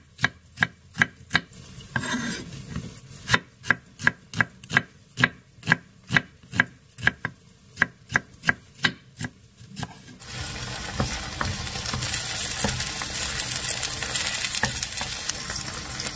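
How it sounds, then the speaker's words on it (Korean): Onion sliced on a cutting board for braised tofu, about twenty sharp evenly paced knife chops, then a steady loud sizzle of onion frying in perilla oil. "우선 양파를 썰어서 두부 가운데 넣고 볶아줄게요"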